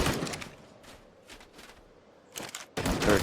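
A bullpup rifle from ARK's Additional Munitions mod fires in short, loud bursts separated by quiet gaps, with a couple of fainter shots between the heavier opening and closing volleys.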